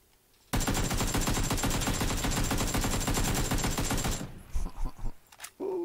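Sustained rapid automatic gunfire in PUBG on Xbox, a loud continuous burst of shots lasting several seconds before cutting off into a few scattered quieter sounds.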